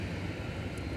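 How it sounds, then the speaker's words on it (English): A DHL Boeing 737-8 jet run by Kalitta Charters, bound for Cincinnati, rumbles steadily at Minneapolis airport, a broad continuous engine roar that stays even and moderately distant throughout the brief moment. "It's a 73-8 headed to Cincinnati, operated by Kalitta Charters."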